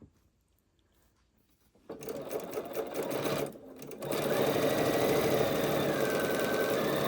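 Near silence, then a sewing machine whirs into a fast, steady stitching hum as quilt block pieces are chain pieced. It pauses briefly and resumes louder and continuous.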